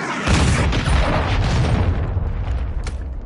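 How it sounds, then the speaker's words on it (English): A cruise missile explodes in Call of Duty multiplayer, a loud, deep, rumbling blast that fills the whole moment and slowly fades while debris crackles on top. "Hostiles launched a cruise missile"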